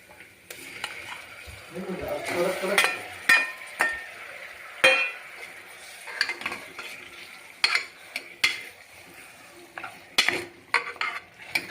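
Mutton with onions, turmeric and salt being stirred in a pan, irregular spatula scrapes and metallic clinks over a light sizzle, close and moderately loud, with no speech.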